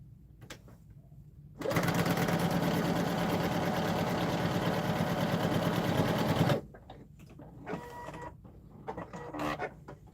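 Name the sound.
sewing machine stitching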